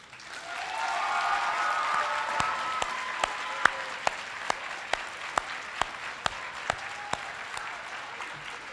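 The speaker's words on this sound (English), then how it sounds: "Please provide the staff with the round of applause that they rightfully deserve." A graduating class and families at a secondary school commencement applaud the staff in a large hall, with broad sustained applause and a run of distinct individual claps that stand out above the crowd.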